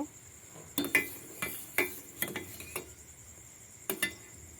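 A spoon scrapes and clinks against a pot while boiling milk is stirred down for Bengali-style doi, a series of sharp metallic taps in irregular bursts.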